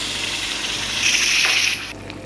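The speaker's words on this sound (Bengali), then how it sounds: "আমি এর মধ্যে একটু পানি দিয়ে দেবো।" Water pours and gushes into a hot frying pan holding onions, potato, ginger and garlic for an egg omelette curry, a steady close splashing rush lasting about two seconds before cutting off.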